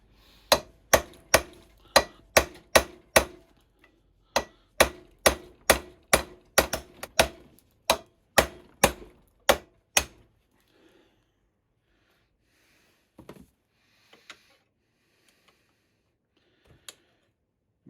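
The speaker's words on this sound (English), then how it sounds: "So now we're going to change over and use a chisel." A hammer drives a sharp chisel into the ring gear of a classic Mini flywheel, about twenty evenly spaced sharp metallic strikes with a short pause midway, then quiet with a few faint knocks.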